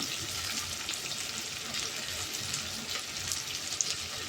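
Onions and curry leaves sizzling in a pan, a steady soft crackling hiss that runs continuously at low level without any talk.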